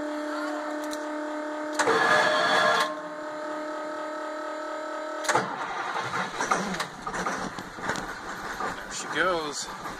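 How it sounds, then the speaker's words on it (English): Cold school bus engine at 28 degrees cranking: a short loud starter grind, a pause, then a second crank that catches and settles into a rough, uneven idle with rattles, under a voice. "You hear that starter grind the first time?"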